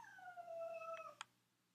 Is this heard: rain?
no